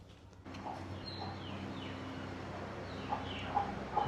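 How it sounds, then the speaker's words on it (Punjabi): Chickens on a horse farm give a few short clucks, faint and at a distance, over a steady low hum of background noise. "ਫਾਰਮ ਦੇ ਵਿੱਚ ਮੁਰਗੇ ਫਿਰ ਰਿਹਾ"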